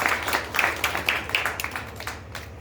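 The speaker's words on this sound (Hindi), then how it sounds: "जोरदार तालियां आपकी जारी रहे इनके सम्मान में" Applause from an audience at a poets' gathering and book launch in Jaynagar, Madhubani, honouring a guest; irregular clapping sounds steady and moderately close over 2.6 seconds, with no talk.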